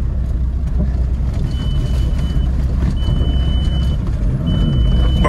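Repeated electronic reversing beepers from nearby vehicles sound in bursts, a steady tone pulsing over a low engine rumble inside a new ATV cab.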